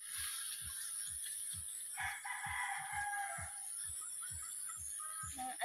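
A rooster crows outdoors, loud and fairly close, over a steady rhythmic low thumping background that continues throughout.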